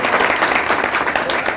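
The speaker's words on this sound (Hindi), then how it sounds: "जोरदार तालियों के साथ" Loud, steady applause from an audience at an All India Rangrez Foundation community gathering in Firozabad, a dense continuous wash of many hands clapping at once with no pauses.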